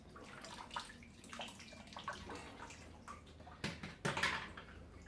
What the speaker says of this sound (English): If I need to let it drain, I'll let it drain a bit more.